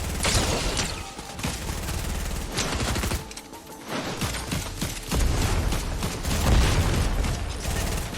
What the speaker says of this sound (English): Where do the explosions come from?